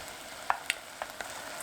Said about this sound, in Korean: 양념이 끓으면 다져놓은 고추를 넣고 볶아줍니다